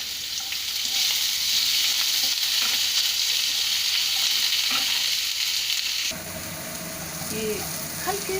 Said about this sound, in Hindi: अब इसमें मैं अनियन, जो मैंने 2 मीडियम साइज काट के रखा है, वो डाल रही और 1 हरी मिर्ची